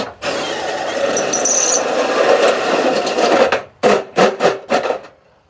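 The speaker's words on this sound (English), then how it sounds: "So today we're gonna use an outlet cutter for our outlets." Gutter outlet cutter (2 3/8 inch) cutting an outlet hole in a gutter: a sustained harsh grinding rasp for several seconds, then four short sharp bursts as the cut finishes, close and loud.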